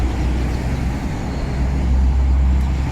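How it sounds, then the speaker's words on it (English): Steady road traffic rumbles throughout, a continuous low drone of passing cars on a city street in Abu Dhabi, with no voices. "People are busy, as you can hear the cars"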